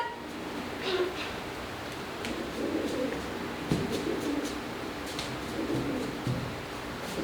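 Soft, throaty pigeon coos repeat over a steady background hiss, with a few faint ticking sounds.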